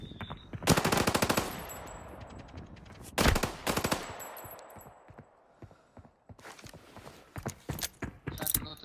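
AEK rifle fire in the shooter game Arena Breakout, with two loud close bursts of rapid automatic shots, each followed by a decaying echo, then softer scattered shots and clinks.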